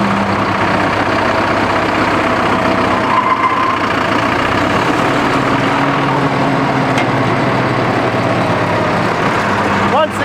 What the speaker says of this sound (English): We've let the engine warm up long enough, we can engage the clutch.